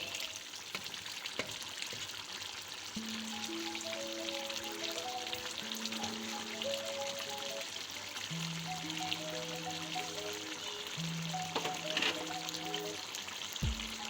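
Bottle gourd cooking with chicken in a pan on high heat while its water dries off, giving a soft, steady sizzle that runs throughout beneath louder background music.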